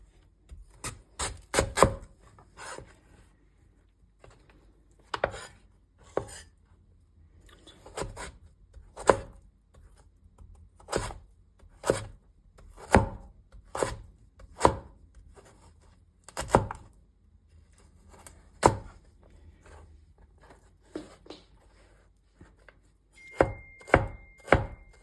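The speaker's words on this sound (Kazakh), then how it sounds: "Одан кейін асқабағымызды да ұсақтап турап аламыз." A knife chops pumpkin finely on a cutting board, with sharp, close thunks landing in irregular bursts and short pauses, each stroke distinct and crisp against a quiet kitchen background.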